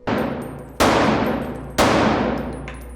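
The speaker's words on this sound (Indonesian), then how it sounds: "Ray membalas gertakan Nick dengan serentetan tembakan yang tepat kena di sasaran pada target" Three loud, sharp gunshots fired a second or so apart at a shooting range, each ringing out with a long echoing decay.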